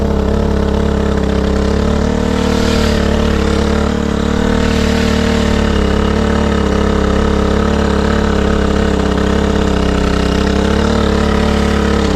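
A motor idles steadily and loudly up close, its even rumble holding unchanged for the whole stretch.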